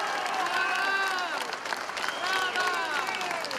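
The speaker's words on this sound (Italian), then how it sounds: "Pioggia di applausi quando la segretaria del PD affronta il tema della sanità." Applause at a Democratic Party rally in Treviso as the party secretary addresses public healthcare, a dense, steady crowd of clapping under a loud, amplified voice that keeps speaking throughout.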